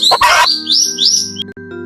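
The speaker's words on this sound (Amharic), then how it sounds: "ጩኸቱን የሚሰሙ ወፎች ደንግጠው በረሩ።" Cartoon birds, startled by a loud cry, burst into a quick flurry of bright chirps and tweets, close and clear against a quiet background with no talking.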